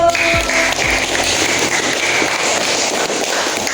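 A classroom of students claps together in a dense, loud patter of applause that holds steady throughout, with a faint voice or two in the background.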